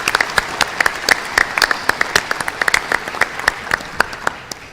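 A conference audience at a business event applauds event sponsors with close, loud, dense clapping that stays steady for several seconds before easing off slightly.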